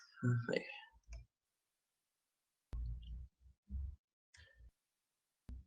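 A computer mouse clicks during a BIM project-review video call: sharp, isolated taps in short pairs with long gaps, following a brief Spanish-speaking voice at the start.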